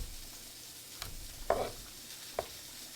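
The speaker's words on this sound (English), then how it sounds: "Time to go ahead and flip the steak and let it sear on the other side." A steak sears quietly in a pan, a faint low sizzle with a few soft clicks and taps nearby and no speech.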